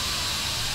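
Steam hissing in the horror video game Outlast, a steady loud broadband hiss lasting a brief moment, alone without speech.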